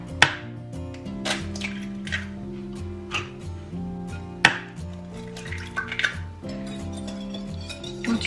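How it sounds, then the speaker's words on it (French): Eggs being cracked for a cake batter in a home kitchen: a series of sharp clicks and taps of shell against a bowl, spaced irregularly over soft background music. "hop, casser les 3 œufs"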